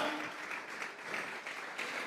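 A church congregation applauds together in a steady, dense wash of clapping that holds at an even moderate level for the whole moment, with no clear gaps or pauses.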